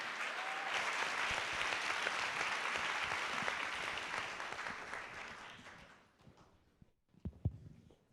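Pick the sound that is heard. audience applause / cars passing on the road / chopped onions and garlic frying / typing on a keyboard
audience applause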